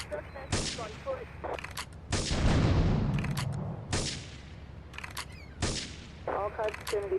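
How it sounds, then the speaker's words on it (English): Loud bursts of game gunfire and explosions come in clusters, with short radio-style voice chatter between the volleys. "Investigate reports of gunfire and explosions."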